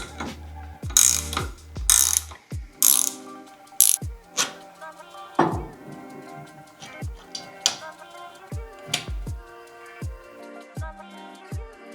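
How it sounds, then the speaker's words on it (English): Impact wrench driving an iCrimp IWS-1632CF ProPress tool with a 22mm socket to press copper pipe in a tight space: a series of sharp ratcheting mechanical bursts and clacks, loud and close, with short pauses between. "Press with impact wrench."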